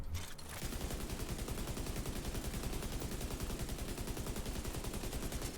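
Rapid sustained automatic fire from the MK assault rifle in The Division 2, with loud evenly spaced shots hammering without pause after a brief quiet start.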